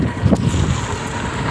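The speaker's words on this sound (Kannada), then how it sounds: "ತುಂಬ ಗಾಳಿ ಬರ್ತಾ ಇದೆ." Strong wind blows across the microphone during a morning walk beside water, a steady rushing roar with a brief low buffet near the start and no talk.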